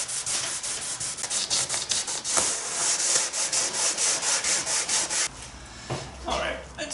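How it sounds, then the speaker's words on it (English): Rhythmic sanding strokes rasp back and forth over thin veneer plywood on a wooden boat build, a steady series of scratchy rubs that stops abruptly near the end. "it's very thin veneer ply to be sanding off fingerprints"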